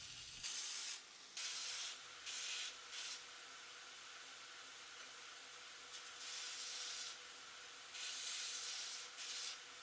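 A knife blade pressed against a belt grinder during sharpening, a fainter running hiss broken by several louder gritty grinding passes of a second or so each, with no voices.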